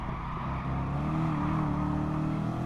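An older Chevrolet car in Gran Turismo Sport gives a steady, droning engine hum that swells slightly as it revs, heard alone without talking.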